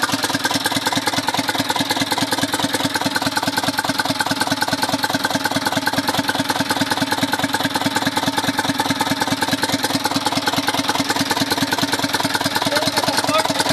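An Isuzu Elf 4HL1 diesel engine runs steadily after a module and wiring repair, a close, loud, even idle with a rapid rhythmic knock and clatter throughout, no voices.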